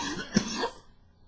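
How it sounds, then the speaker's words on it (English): A single short cough, close and fairly quiet, fades quickly into near silence. "Getting ready to cough."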